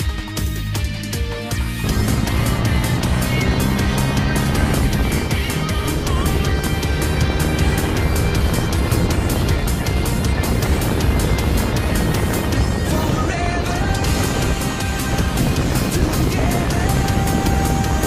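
Yamaha YZF-R 125 motorcycle engine running loud and close, a continuous buzzing drone with shifting pitch as it revs and pulls through gears, with no talk over it.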